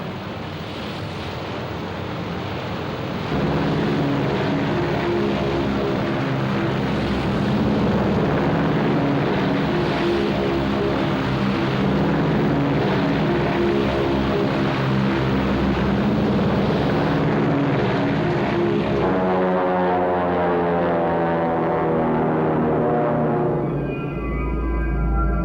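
Aircraft launch from the carriers Hornet and Enterprise during the Battle of Midway as a dense roar of engines mixed with wind and sea rush. The sound swells after a few seconds and holds loud, with engine tones rising toward the end.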